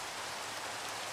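Steady rain falls in Minecraft, a dense, even hiss of drops that holds constant throughout with no voices over it.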